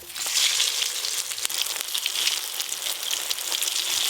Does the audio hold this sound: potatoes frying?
yes